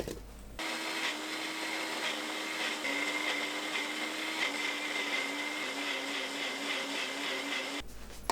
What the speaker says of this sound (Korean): 믹서에 넣고 곱게 갈아주세요.